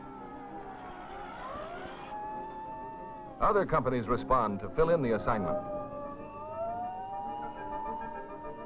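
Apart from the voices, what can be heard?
fire engine sirens as fire companies respond to alarm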